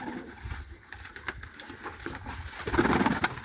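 Turkish takla pigeons cooing softly up close, with brief wing flutters and shuffling sounds amid scattered small noises.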